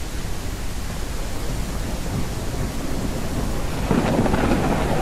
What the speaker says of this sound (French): En tout cas, l'orage est bien fait.